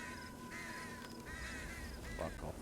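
Crows caw faintly in the distance, a few rough calls repeating over a noisy, constant background hum.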